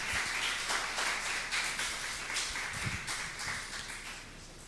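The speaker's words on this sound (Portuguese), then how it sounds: "Pode aplaudir ao Senhor." A church congregation applauding during a communion service, a scattered, moderate wash of clapping with irregular taps that gradually thins and fades toward the end.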